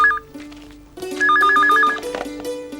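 A telephone bell rings in two short trilling bursts, a brief one at the start and a longer one a second later, fairly close and clear, in an indoor scene from a Tamil TV serial.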